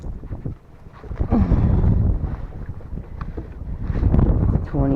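Strong wind buffets a fishing boat on dirty water in South Florida, a loud, gusty low roar of microphone-battering air that surges and eases throughout.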